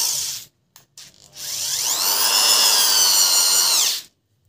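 A Makita power drill runs alone for about three seconds, with a short stop-start burst of the motor first, then a steady, loud whine that climbs in pitch as it spins up, holds, and cuts off.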